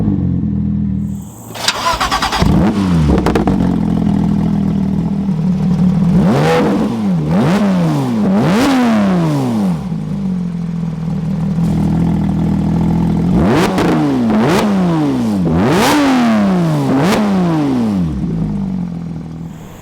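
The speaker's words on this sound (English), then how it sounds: "Now that is one good sounding Porsche" A Porsche 911 GT3 with a Soul exhaust cranks and fires up, then blips the throttle repeatedly in sharp rising-and-falling revs, settling to idle between two clusters of loud, close blips.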